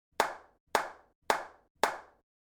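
Four sharp hand claps spaced evenly on quarter-note beats, each a crisp close slap with a short decay, with no talk.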